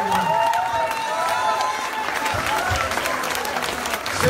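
Church congregation applauding and cheering for the Lord during a service, a steady dense wash of clapping and crowd voices running throughout without pause.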